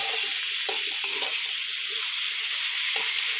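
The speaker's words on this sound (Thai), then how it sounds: "แล้วก็ใส่เห็ดหอมลงไปนะครับ ผัดคลุกเคล้าให้ทั่วนะครับ" Kale stems, carrot, baby corn and shiitake mushrooms stir-frying in a hot pan, a constant bright sizzle with soft scraping strokes from the spatula at an irregular pace, close and without talk.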